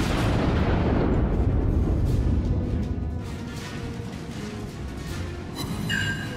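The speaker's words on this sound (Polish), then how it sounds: "Pięknie celnie strzela mój okręt tutaj" The battleship New York's main guns fire a salvo in World of Warships: a loud, deep boom opens, then a long rolling rumble fades slowly, and a fresh crack arrives near the end.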